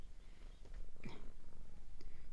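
A cat purrs close to the microphone, a soft rhythmic rumbling pulse that grows steadier and fuller halfway through, with faint small rustles over it.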